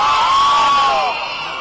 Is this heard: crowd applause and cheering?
yes